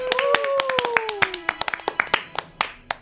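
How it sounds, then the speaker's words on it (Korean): A small group claps in celebration of a TV drama's upcoming premiere in a Korean radio studio: sharp, close hand claps in a brisk, uneven patter that thins out toward the end, with a voice briefly heard at the start. "먼저 축하 박수부터 시원하게 해드릴게요."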